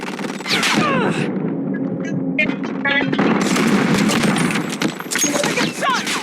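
Gunfire in the mobile shooter COD Mobile: loud, dense bursts of shots and sharp cracks throughout, with brief clinking like spent casings.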